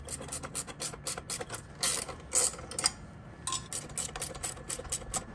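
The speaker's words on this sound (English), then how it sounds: "I'm gonna cinch them up with a ratcheting 13 millimeter box end and then an open end" A ratcheting 13 mm box-end wrench tightening bolts on a 20 ton shop press, with rapid bursts of close, crisp ratchet clicks broken by short pauses, and no talking.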